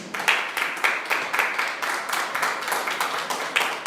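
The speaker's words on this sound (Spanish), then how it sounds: "Denle un aplauso al Señor." Congregation in a Spanish-language church claps together in a quick, fairly even rhythm, bright and close, keeping up the beat without pause for several seconds.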